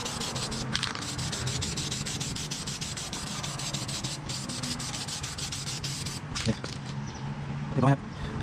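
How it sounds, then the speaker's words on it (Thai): Steady hand sanding smooths fresh paint on a Mitsubishi Mirage tail in a DIY respray, a continuous close rubbing scrape with a few brief louder knocks near the end. "เดี๋ยวผมทำการขัดรอบแล้วขัดไล่สีให้ ให้เรียบนั่นเองนะ"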